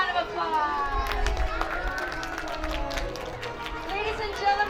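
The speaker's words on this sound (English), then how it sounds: "Give them a round of applause." An audience at a pirate-themed interactive show on a family farm claps for the performers, steady applause mixed with crowd noise while an announcer talks over it.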